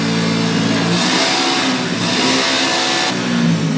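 A car engine revs in an EPCOT desert driving exhibit, a loud mid-pitched engine note that climbs and falls in repeated surges over a steady rumble, close and sustained.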